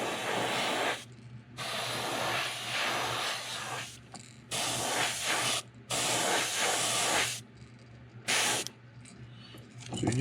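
An airbrush or spray gun lays a light coat of paint on a fishing lure in several hissing bursts of one to two seconds each, close and steady, separated by brief pauses.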